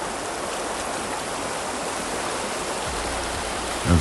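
Steady rushing of a flowing river beside a campground in the early morning, a continuous broadband wash of water with no pauses, close and fairly loud.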